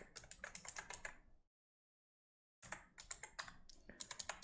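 Quick, light clicking of keys on a computer keyboard as an email address is typed in close, two bursts of rapid keystrokes separated by a second of silence.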